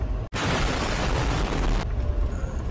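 A car bomb effect erupts as one sudden, loud, broadband blast that roars on for about one and a half seconds, then drops to a quieter rumbling tail.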